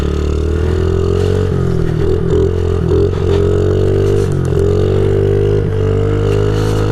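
A Honda CRF50 pit bike's small engine revs loudly and close on an icy, snowy road, buzzing steadily with several quick throttle blips and dips, alone without talk.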